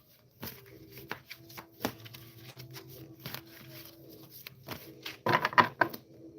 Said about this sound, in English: We're going to go ahead and just do a few more shuffles here.